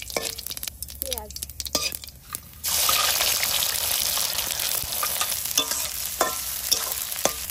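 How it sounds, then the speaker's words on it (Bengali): Onion and dried red chilli hit hot oil in a home kitchen, a loud steady sizzle surging in after some clinks and stirring, continuing with occasional spoon knocks and faint voices in the background. "পেঁয়াজটা বেশি ভাজবো না"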